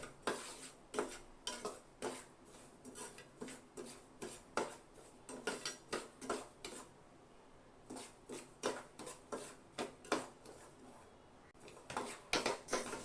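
Semolina (rava) roasting dry in a pan while a spoon stirs it nonstop, giving quiet, rhythmic scraping and clinking strokes that repeat every half second or so.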